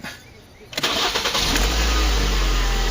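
A 2009 Ford Focus cranks and fires up, a brief quiet click and whirr giving way to the engine catching and settling into a loud, steady idle close by.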